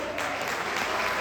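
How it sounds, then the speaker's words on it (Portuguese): A church congregation claps together in dense, steady applause, loud and close, filling the short moment without any pause. "Aleluia, aplauda Ele."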